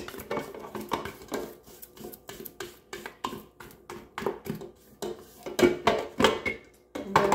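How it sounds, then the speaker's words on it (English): A spatula scrapes around the bottom of a mixing bowl of sugar cookie bar frosting in rhythmic, repeated strokes, each one a short, close scratchy swipe with brief pauses between. "Scrape your bowl because that very, very bottom is going to still be a bit white."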